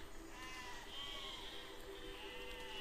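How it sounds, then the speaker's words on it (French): Sheep bleating in the physics building game Besiege, several harmonic calls overlapping across the clip at a steady moderate level with no talk. "je suis en train d'essayer de tuer ces moutons"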